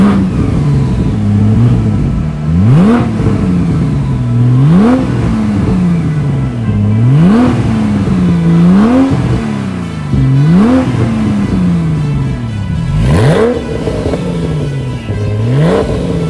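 Porsche 911 997.2 Turbo accelerating hard through repeated gear changes, each pull rising in pitch with turbo whine and spool, then dropping at the shift; loud, close and continuous with no talk.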